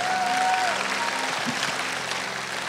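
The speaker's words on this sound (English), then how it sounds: "you can give that a round of applause." Steady audience applause fills the room at an event, a broad, even roar of clapping that holds at full strength throughout, with a brief tone and faint murmurs in the background.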